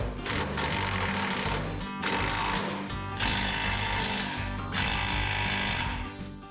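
Power tools snug the muffler clamps on the exhaust of a 1978 Ford F250 4x4 pickup, running as loud, steady whirring bursts of about a second each, broken by short pauses.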